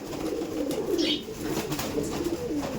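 A Kaldom pigeon held in the hand coos repeatedly up close, low rolling calls in a steady rhythm, with a brief flutter of higher sound in the middle.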